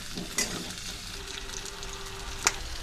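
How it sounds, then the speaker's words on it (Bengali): Potato and taro pieces frying with onions in a pan: a quiet steady sizzle with two brief sharp stirring clicks, no voices. "এগুলো আমিও ভেজে নেব পেঁয়াজের সঙ্গে"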